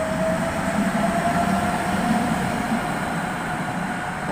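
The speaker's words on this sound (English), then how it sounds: "KT8D5 tram now, 9061." A KT8D5 tram rolls past on a Prague street, a steady low rumble with a faint tonal whine holding constant throughout, fairly loud and close, with no voices.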